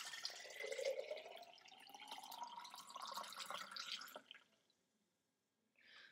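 Dissolved mixture is poured through a funnel for a homemade hydrogen generator. Liquid trickles and splashes steadily for about four seconds, then stops, and a brief faint splash follows near the end. No one speaks.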